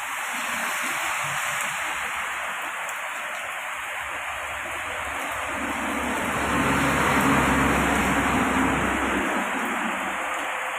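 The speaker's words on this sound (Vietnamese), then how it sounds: "Bây giờ trời bắt đầu mưa lại" Steady heavy rain pours down in Thai Binh, Vietnam, a dense continuous hiss of falling water that swells louder toward the end, with no voices.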